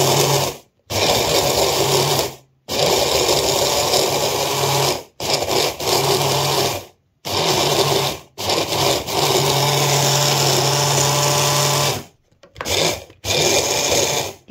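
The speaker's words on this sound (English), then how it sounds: "So I'll put it in this mixer. It's just got a blade in the bottom." Blade mixer on high grinding granulated sugar into caster sugar, a loud continuous whirring grind in several long bursts separated by short stops.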